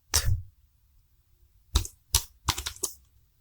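Computer keyboard keys are struck while Java code is typed, one isolated tap followed after a pause by a quick cluster of four or five close, crisp clicks.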